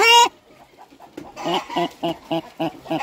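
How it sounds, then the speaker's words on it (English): A broody setting hen sitting in her nesting box clucks in a close, steady series of short, loud, evenly spaced calls after one brief opening squawk. "She's what we call a setting hen. She likes to stay in her little box and talk."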